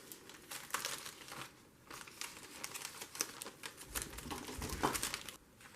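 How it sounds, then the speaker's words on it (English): Plastic window cling being worked into a plastic bag, giving soft, close crinkling and rustling in irregular bursts, quiet and alone. "Now I got to get this into the bag."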